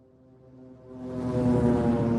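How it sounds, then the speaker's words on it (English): A car sound effect from a royalty-free vehicle sound pack: a low, tonal engine drone that starts faint and swells to a steady, louder hum with a rising higher whine, heard alone without talk. "That's a car."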